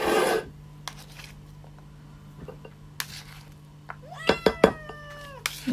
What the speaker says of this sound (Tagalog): Yan, nagmamyaw na si Pepper